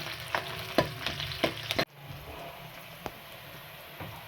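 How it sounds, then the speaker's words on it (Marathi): Chopped green chillies frying in hot oil in a pan while being stirred, for a dry boiled-potato bhaji: a steady close sizzle with several sharp spoon scrapes early on, then a quieter, even hiss after a sudden drop. "ह्याच्यामध्ये आपण ती चिरलेली मिरची टाकली आहे आता आपण व्यवस्थित खालून घेऊ"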